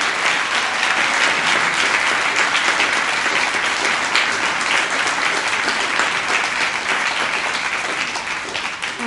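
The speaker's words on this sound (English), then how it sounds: "I think that is a hugely well-deserved round of applause for Terry" A crowd gives a long round of applause for Terry Hicks, the father of David Hicks, at a public talk against the War on Terror. The clapping stays loud, dense and steady throughout, with no break.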